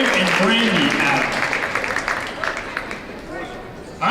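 An audience applauds Smoky Valley high school students receiving awards at a boys varsity basketball game, loud sustained clapping from a crowd in a gym that fades toward the end, with a voice talking over it.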